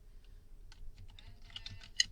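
Keys tapped on a computer keyboard while a search is entered into Google, a quiet, uneven run of soft clicks over a low hum, closing on one sharper keystroke.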